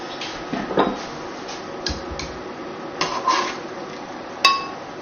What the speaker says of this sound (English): we're starting to get some scum coming off the meat, and I need to skim that off